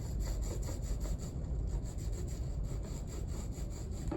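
An ink roller brayer rolls ink across a styrofoam dinner plate printing matrix, making a continuous soft, sticky rubbing hiss with faint rhythmic pulses as it passes back and forth close by, with no talking.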